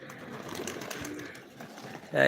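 Pet pigeons, including Chinese owl pigeons, coo softly around a home loft with water basins, a steady low murmur of birds under background noise, ending in a brief louder burst.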